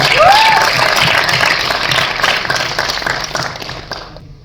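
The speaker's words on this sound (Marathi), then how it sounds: "एकदा जोरदार टाळ्या सिद्धार्थसाठी" An audience applauding Siddharth on a Marathi show: a full, loud wash of clapping that starts strong and slowly thins toward the end, with a brief whistle near the start.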